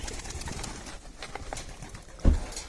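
Homing pigeons coo softly and steadily at close range in a loft while young birds are just starting to fly, and a brief louder bump or flutter comes near the end, with no voices.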